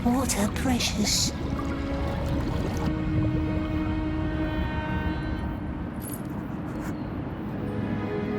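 Water in the LOTR Gollum video game, a continuous rushing pour that stays fairly loud and steady throughout.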